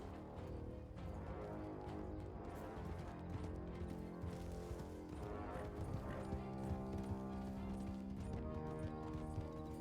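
Rhythmic hoofbeats of a horse galloping in the video game Red Dead Redemption 2 (RedM roleplay), over a dense musical backdrop, steady and continuous.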